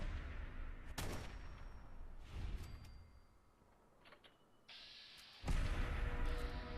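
Weapon fire in the video game Fallout 4, a few sharp heavy blasts spaced apart with rumbling tails and game ambience between them, no talking.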